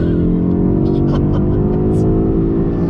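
2020 BMW X6 M Competition accelerating hard in second gear on the highway: a loud, steady engine roar climbing evenly in pitch over three seconds, heard from inside the cabin with no talk.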